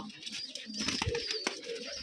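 Pigeons at a farm in Rajshahi give soft, low cooing calls up close, with faint fluttering and small rustles in between, and no talking.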